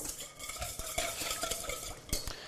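Chicken salad dressing whisked briskly in a bowl, with a steady run of light clinks and scraping taps against the sides, close by and busy throughout with a few sharper knocks.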